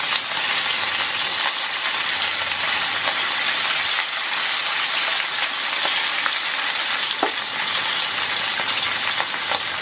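Tangra fish frying in hot oil, a steady dense sizzle with crackling pops that stays even and close throughout, with no voices.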